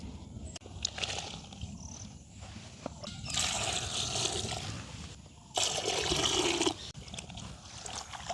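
Water splashes and swishes as seeds are washed after their stems are removed, outdoors in a village. Two louder bursts of sloshing stand out over a lower, continuous trickle.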